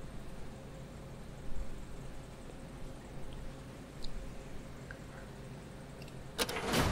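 A car arriving in the Roblox game Car Crushers 2, heard as a low steady engine rumble with a few soft thuds and a brief bright clatter near the end.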